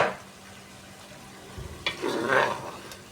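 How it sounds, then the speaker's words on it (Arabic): Chicken pieces stirred in tomato paste sauce in a pot, a soft sizzle and a few scraping stirs rising toward the end, close and fairly quiet. "هقلب الفراخ في الصلصه زي ما انتم شايفين كده"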